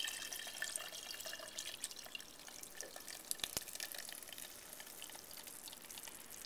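Melted homemade ghee is poured through cheesecloth into a glass measuring cup, making a faint, steady trickle with tiny drips and a couple of light clicks over a low background hiss.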